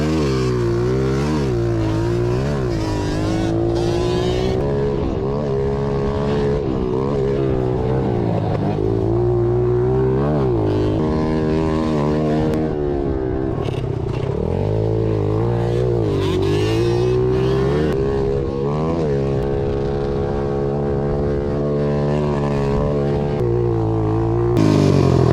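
A pit bike engine with no exhaust fitted runs raw and loud, revving up and down continuously with a harsh, buzzy tone and no pauses.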